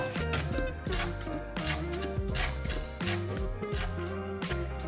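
A knife slices zucchini lengthwise into fine strips for vegetarian zucchini fritters, producing a quick series of crisp cutting taps over background music.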